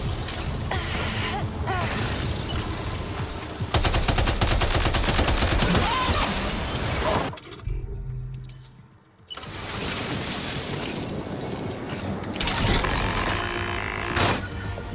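Gunfire in the video game Death Stranding 2: On the Beach, dense rapid bursts of automatic fire with crashes and whooshes, loud and near, briefly dropping to a muffled lull midway before the shooting resumes.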